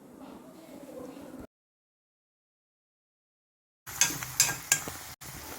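A spoon stirs sliced okra (vendakka) in a pan: soft scraping, then a few seconds of silence, then sharper clinks and clatters against the metal.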